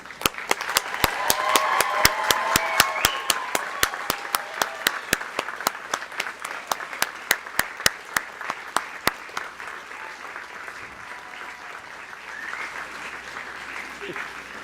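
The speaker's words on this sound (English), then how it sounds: "join me in a round of applause for our graduating firefighters" Sustained applause from a graduation ceremony audience honouring newly graduating firefighters of a recruit course, dense and steady clapping with sharp repeated strikes up front, thinning and fading toward the end.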